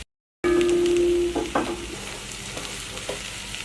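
Potatoes, tomato and green chillies sizzle in a hot pan, a loud steady frying hiss with a sustained tone at first, then a few clanks of a spoon stirring, with no voices.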